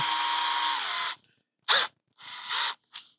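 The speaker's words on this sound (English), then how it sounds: "we're going to go with our 7/64 drill bit to start." A power drill with a 7/64-inch bit runs steadily for about a second, then stops, followed by several short whirring bursts of the drill being triggered again.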